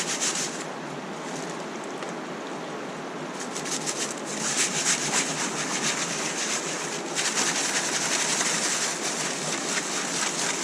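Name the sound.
kitchen strainer shaken back and forth with river grout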